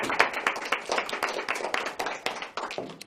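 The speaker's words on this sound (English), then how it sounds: "I think he deserves a round of applause" A small group clapping for a business employee, individual claps clearly distinct in a quick uneven rhythm, close and moderately loud, with no talk over it.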